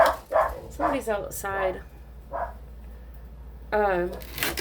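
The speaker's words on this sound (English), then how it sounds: "sorry about the dogs" Dogs bark indoors in several sharp bursts with a few yips and whimpering tones, fairly close, mixed with a person speaking.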